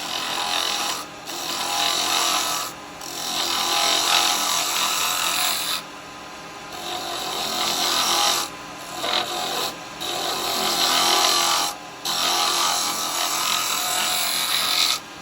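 A piece of firewood turned on a lathe with carbide tools, giving a loud continuous scraping hiss as ridges are cleaned off, broken by several short pauses between passes.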